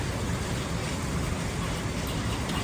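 Rain falls steadily as a soft, even hiss of broadband patter, constant throughout with no voices or distinct drops standing out.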